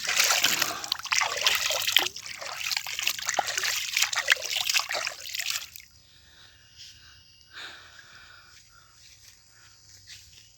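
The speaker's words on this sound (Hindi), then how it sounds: "और पानी बह रहा है।" Clear water flowing along a canal with submerged grass, a steady broadband trickling and rushing that is loud for about six seconds, then drops to a faint, quieter flow with small splashes.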